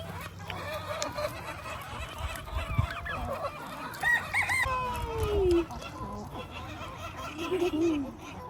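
Chickens and other fowl, including a peacock, calling in a busy yard, with clucks, a crow and honking mixed in, plus faint voices in the background.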